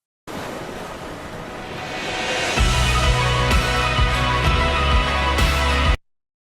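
Ocean waves breaking and washing ashore for a wedding film edit, a steady broadband surf roar that swells louder midway with heavier low rumble, close and continuous with no voices.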